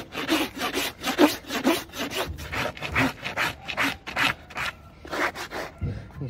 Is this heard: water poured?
no